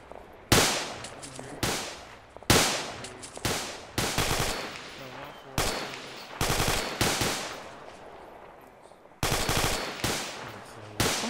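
Bursts of automatic gunfire in a military video game, several loud rapid volleys separated by short pauses, with faint radio-style talk underneath.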